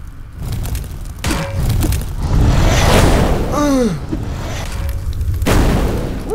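Deep booming blasts and thuds from the video game Legend of Grimrock, several loud explosive hits layered with rumbling and a brief whistling effect, with no talking.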